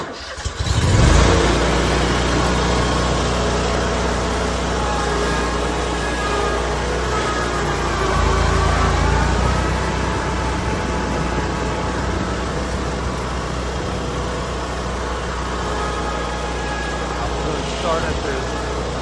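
A 2024 Scag Cheetah 2 riding mower in its low setting starts up and drives along, its engine holding a steady mid-pitched drone with a slight rise partway through, and a voice talks over it.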